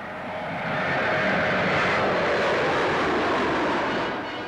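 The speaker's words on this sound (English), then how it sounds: "This 50-seater medium-range airliner, with a cruising speed of 312 miles an hour, is powered by four turbopropeller engines." A Vickers Viscount 700 airliner with four turboprop engines flies past at an air show, its broad roaring drone swelling and then fading smoothly over a few seconds.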